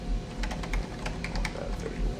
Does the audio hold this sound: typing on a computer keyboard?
yes